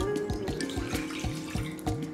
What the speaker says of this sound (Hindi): सबसे पहले हम 1/2 कप पानी ले लेंगे एक बर्तन में।